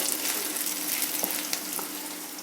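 Fenugreek seeds and onions sizzle steadily in a hot pan, a continuous close frying hiss with a few faint stirring clicks, no voices.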